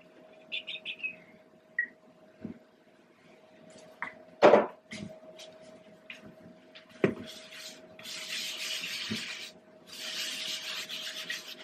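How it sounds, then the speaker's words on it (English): Countertop scrubbed with the flat side of a sponge and Comet bleach cleaning powder, intermittent rubbing then sustained rasping swipes, with a few knocks and taps, close and without talk. "And I am using the flat side of the sponge, not the scrubbing side."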